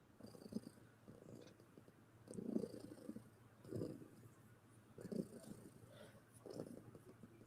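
Cat purring close by, a soft, low, rhythmic rumble rising and falling in regular breaths about every second and a half, faint and alone in a quiet room.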